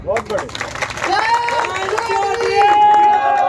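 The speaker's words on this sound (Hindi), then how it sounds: "ताली आप बजा रहे हो" Crowd clapping and cheering at an outdoor political rally in Shamli, Uttar Pradesh, a dense wash of applause and babble building under a loud voice addressing the gathering.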